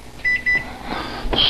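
Microwave oven keypad beeping as it is set for a minute and a half on high to cook eggs: two short, loud, bright beeps close together, then a longer final tone.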